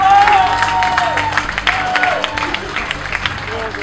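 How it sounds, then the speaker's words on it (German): A crowd at an arm-wrestling event claps and cheers for a crew member, a loud, dense wash of applause with shouts and whistles rising above it, steady across the moment. "Dicken Applaus für Danny, bitte."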